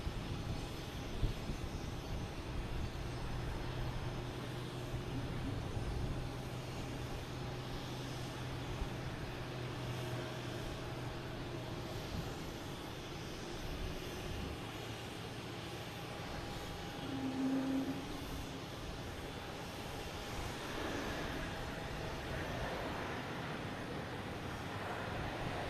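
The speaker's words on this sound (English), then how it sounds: "Next to come in is a A220, a fan favorite, coming in from Raleigh, Durham." A Delta Airbus A220 lands at Boston Logan, heard as a distant, steady jet engine rumble and whine mixed with airport and traffic background noise.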